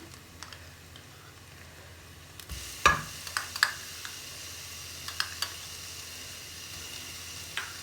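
Onions fry in a pan as garlic-ginger paste goes in, a soft steady sizzle with a few sharp clicks and scrapes of a spoon against the pan near the start.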